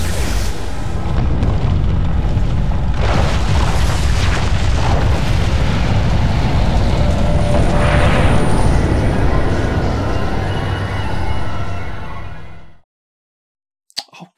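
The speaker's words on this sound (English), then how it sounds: "ion cannon activated." Ion cannon blast, a sci-fi weapon effect: a sustained, loud, rumbling explosion roar with heavy low end that lasts about twelve seconds, then cuts abruptly to near silence with a couple of small clicks.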